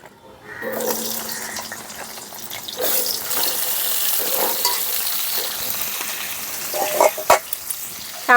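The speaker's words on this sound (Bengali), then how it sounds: "এখন আলু ভাজা তেলের মধ্যে পটলগুলো দিয়ে ভেজে নেব।" Pointed gourd (potol) drops into hot oil left from frying potatoes and bursts into a loud sizzle, then keeps frying with a steady hiss and a few clacks and scrapes toward the end.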